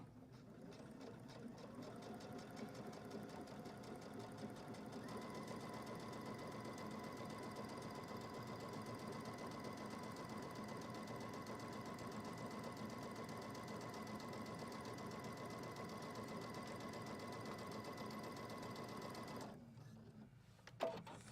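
Sewing machine stitching a zipper pouch seam, a steady continuous mechanical whir with rapid needle rhythm running close and unbroken for about twenty seconds, then stopping abruptly with a small clunk.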